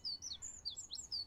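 Bird chirping in a cartoon scene as a mother bird flies into a children's playhouse: a quick run of high, bright tweets repeating in an irregular rhythm, fairly close and clear, with no talking.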